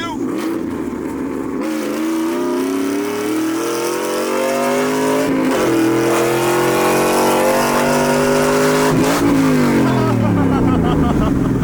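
A Chevrolet Silverado with an LS1 V8 and T56 manual gearbox accelerating hard, loud rising engine notes climbing through gears with brief dips at the shifts, recorded close with a voice over it.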